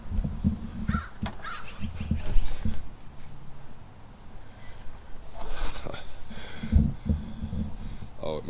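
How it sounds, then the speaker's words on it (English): Magpies calling outdoors, harsh chattering caws heard at moderate distance in bursts over a low, noisy background. "Oh, it must be magpies."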